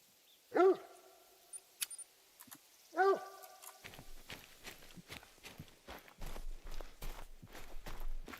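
A dog in the hunting game theHunter: Call of the Wild gives two sharp barks a few seconds apart, followed by a steady run of footsteps that grows louder.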